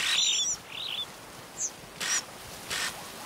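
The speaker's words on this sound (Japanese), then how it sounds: "幸せの青い鳥が" A blue bird in Africa calls in a series of short, bright chirps and whistles, several spaced bursts standing out clearly over a soft outdoor hiss, in the Afrika wildlife photography game.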